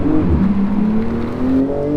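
A 2019 Porsche 911 GT2 RS Weissach Package with a 700 hp twin-turbo engine revs up toward 6,000 rpm, its loud, close engine note climbing steadily in pitch.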